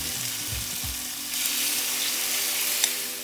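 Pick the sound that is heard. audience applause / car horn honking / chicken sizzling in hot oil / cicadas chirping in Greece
chicken sizzling in hot oil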